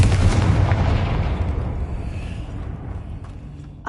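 A loud Confringo spell blast from Hogwarts Legacy erupts in a heavy booming burst that rumbles like an explosion and then fades slowly, heard alone.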